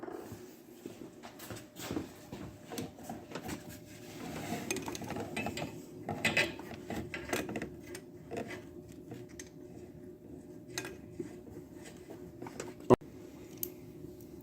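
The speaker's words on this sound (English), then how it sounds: "then we'll use our socket to tighten it up" Socket wrench tightening an oxygen sensor into the exhaust of a 2009 Dodge Caliber, with threaded metal clicks and scraping in irregular bursts, close and moderately loud, with one sharp metallic knock near the end.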